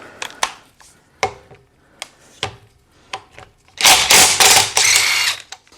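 A 19mm socket fitted with a rubber boot works loose the wheel nuts on a GoWesty wheel of a 1988 van, giving sharp separate ratcheting clicks and knocks, then a dense loud burst of rapid clattering near the end.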